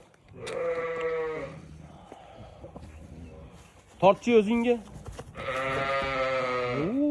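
Sheep bleat loudly up close several times, long wavering calls separated by short pauses, with someone speaking briefly in between.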